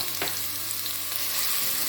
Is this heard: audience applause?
no